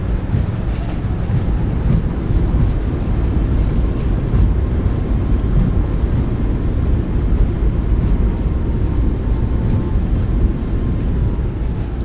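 Thrust reversers deploy on a Boeing 737 MAX 8 landing in the iFly flight simulator, producing a loud, continuous low roar with a rushing, wind-like texture that holds steady throughout without a break.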